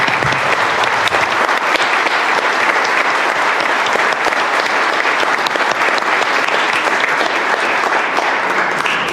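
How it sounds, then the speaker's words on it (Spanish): At a book launch, the audience gives loud, continuous applause that stays dense and even the whole way through, with no talking over it. "Yo quisiera que les diéramos un aplauso también a ellos"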